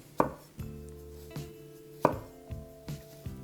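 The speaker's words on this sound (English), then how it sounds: "So for my onion, I'm going to start like this, cutting down" A knife cutting down through an onion on a board, a few distinct thuds spaced about a second apart with a soft ringing after each, close and clear.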